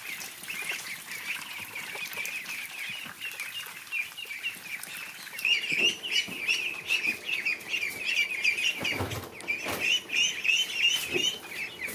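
Young ducklings making soft quacking peeps, a rapid run of small calls that starts faint and grows busier and closer halfway through, with no talk.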